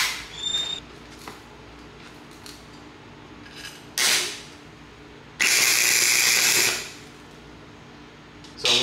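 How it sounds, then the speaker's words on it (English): A MIG welder lays tack welds on a 1000hp Mustang, giving a short crackling buzz and then a longer steady sizzling burst of about a second, close up over a quiet workshop background. "we're about to make that very first tack weld"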